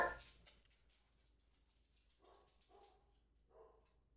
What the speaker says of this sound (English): I don't know why my dogs are barking at nothing